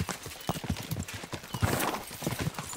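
Horses gallop in Kingdom Come: Deliverance 2, their hooves drumming in a fast, close, continuous clip-clop with a brief whinny in the middle and faint voices mixed in.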